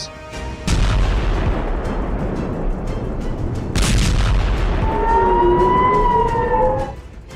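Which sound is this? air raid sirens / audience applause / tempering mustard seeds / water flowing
air raid sirens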